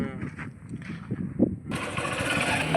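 A motorbike engine catches after a few low turning-over sounds and then runs at a steady idle, fairly close, with a voice speaking briefly over it.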